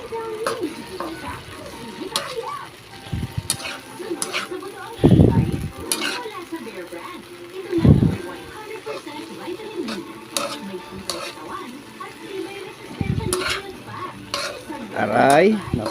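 Egg sizzles as it fries in a pan while a utensil stirs it, bringing a steady hiss with intermittent scraping and clinks against the pan; a person talks over the cooking.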